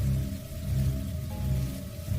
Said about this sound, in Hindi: कुछ देर सिर्फ लगातार बारिश की आवाज के अलावा कुछ सुनाई नहीं दिया